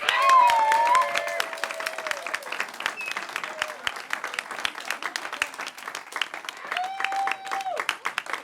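Concert audience applauding and cheering for a performer at a private radio-station show, a dense steady wash of clapping with whoops and whistles that starts loud and continues throughout.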